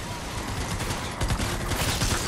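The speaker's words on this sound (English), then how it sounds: "My thing was like shooting out fireworks." Fortnite fireworks shooting out in the game, a rapid crackling barrage of bursts with deeper popping thumps in the second half, fairly quiet and continuous.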